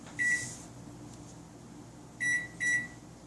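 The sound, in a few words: microwave oven being closed and started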